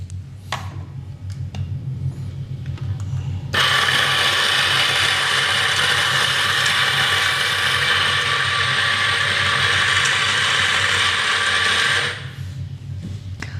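A Ferratti Ferro FGM 800 AC espresso coffee grinder switches on, grinds with a loud, steady, buzzing whir for about eight seconds, then cuts off, leaving a low background hum before and after.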